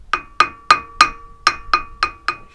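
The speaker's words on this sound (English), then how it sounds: "Now we just give the flange a tap with the hammer." Eight sharp metallic taps of a hammer on a Land Rover wheel flange during a wheel bearing change, each ringing briefly, struck at a steady, slightly uneven pace.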